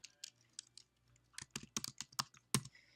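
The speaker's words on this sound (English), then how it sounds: "You will begin typing in the box" Light keyboard typing, a string of quick irregular key clicks close up, growing busier toward the end with a firmer final tap.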